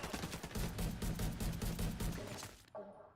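Rapid LMG fire in the video game Division 2 rattles in a dense sustained burst for over two seconds, then stops abruptly, leaving a faint trailing shot, fairly quiet and without talk.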